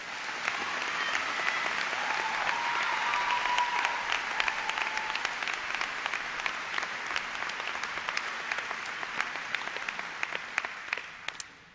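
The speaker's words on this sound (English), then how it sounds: "Let's welcome Katie with a round of applause." Sustained applause from a commencement crowd, steady and dense for several seconds, then thinning into scattered claps before stopping.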